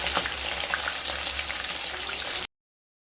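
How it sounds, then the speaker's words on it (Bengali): Katla fish pieces shallow-frying in hot oil, a steady close crackling sizzle with fine popping, continuous and fairly quiet, cutting off abruptly near the end. "দুটো সাইড মাছ ভাজা হয়ে গেছে, এবার তুলে নেব।"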